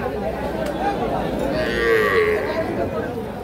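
A mid-sized bull at a cattle market gives one drawn-out, fairly close moo that rises and fades in the middle, over steady crowd chatter and market noise.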